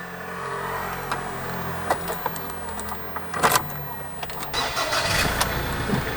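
A pickup engine cranks and starts up, settling into a steady idle with some clicks and a jingle of keys nearby.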